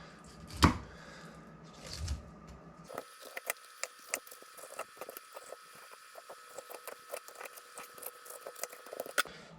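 A knife runs fillets off mackerel. A couple of thumps and handling noises come first, then a quick series of light, crisp slicing and scraping ticks, close up and fairly quiet.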